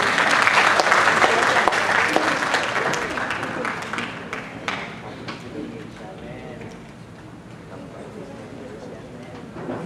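Loud audience applause at a send-off concert by a troubadour music group, starting as dense clapping that thins out and fades over several seconds.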